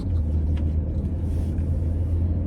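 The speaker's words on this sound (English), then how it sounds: "oh stop it, it's a car" A car rumbles steadily past nearby on a morning before a snowstorm, with a loud, continuous low engine and tyre drone and no speech.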